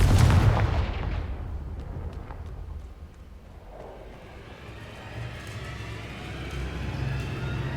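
Blasting spell explosion in the video game Hogwarts Legacy, a loud booming blast at the start that fades into a long, low rumbling decay with ambient noise.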